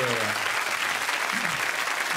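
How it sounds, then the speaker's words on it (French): TV studio audience applause on a French evening variety show, a dense, even wash of clapping throughout, with a voice briefly audible at the start. "Mesdames, messieurs, je vous demande d'applaudir Nathalie Simon."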